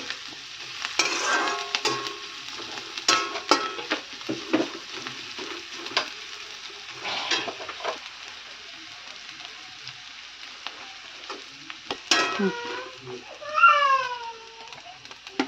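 Ingredients for batani chaat fry and get stirred in a pan, with soft sizzling and intermittent scraping and clinking of a spoon at close range, while a faint mewing-like squeal rises near the end.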